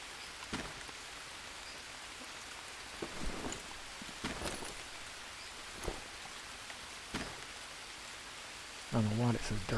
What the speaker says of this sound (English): It always rains in my game.